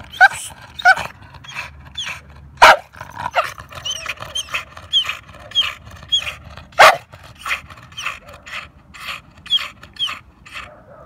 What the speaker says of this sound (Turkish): Başka mahallenin köpekleri de bak.